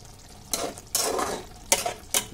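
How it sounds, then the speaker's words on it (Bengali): A spoon stirs matar aloo curry in a hot pan, giving four short scraping, sizzling strokes spaced irregularly, close and clear with no talking. "এবার ভালোভাবে আমি নেড়ে নেব।"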